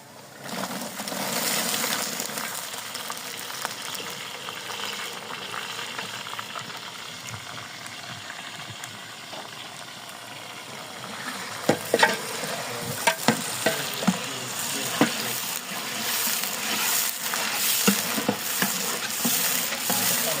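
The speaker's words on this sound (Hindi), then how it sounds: "आलू हल्के से फ्राई हो गए सही तरीके से" Potatoes frying in oil for a vegetable pulao, a loud continuous sizzle that turns busier midway with a run of clattering stirs and spoon knocks against the pot.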